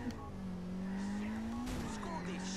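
Car engine in GTA 4 droning steadily as the vehicle drives, with a brief tire-squeal or skid texture near the middle, loud and continuous throughout.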